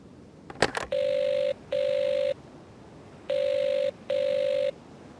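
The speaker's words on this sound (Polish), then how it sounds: "Phone isn't much good if no one will answer it." An old-style telephone rings in an Agatha Christie video game, four steady electronic ring bursts in two pairs after a brief clatter, loud and clear with no voices.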